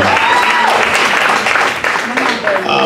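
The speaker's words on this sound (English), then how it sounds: "Come on, clap your hands" Gospel church congregation clapping hands during a praise gathering, a loud, dense wash of claps with cheering and voices threaded through it throughout.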